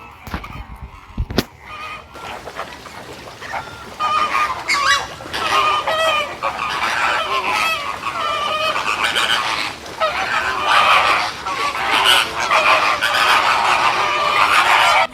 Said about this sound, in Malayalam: ഈ ഫ്ലമിംഗോസ് മാത്രമല്ല ഇവിടുത്തെ പക്ഷികൾ നമുക്ക് ഈ മറ്റുള്ള പക്ഷികളെല്ലാം കാണാൻ പറ്റും